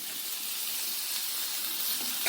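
Tomatoes and salt sauté in a pan for a chutney, giving a steady, moderate hissing sizzle with no voices over it.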